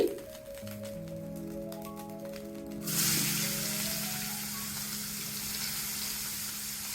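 Onions dropped into leftover hot oil in a wok after frying fish, giving a sudden burst of broadband sizzling that stays steady and fairly close, with tonal kitchen hum underneath before it starts.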